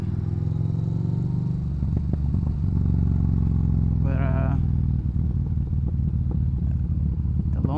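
A Yamaha Bolt R motorcycle rides along with a steady, loud engine drone and wind rumble, with brief clatter and a short higher whine partway through; a voice talks over it.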